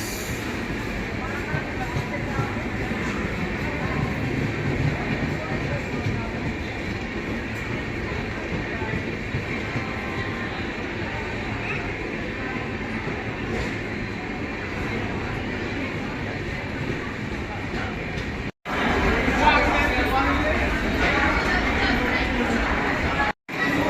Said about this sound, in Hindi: ये खड़ी अपनी मेमू, ये आ गई गोमती एक्सप्रेस